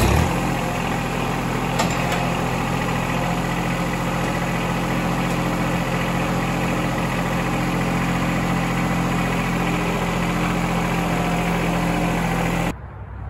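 A John Deere 2210 compact tractor with its mower deck removed idles steadily while its forks lift off blocks, a constant mid-pitched engine drone close by and unbroken for about twelve seconds before cutting off.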